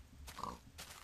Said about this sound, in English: Oh, pig.